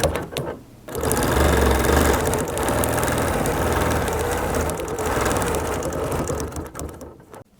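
A sewing machine stitches straight quilting lines across a quilt, its motor whirring in a continuous fast rhythm after a brief pause at the start, then tapering off at the end.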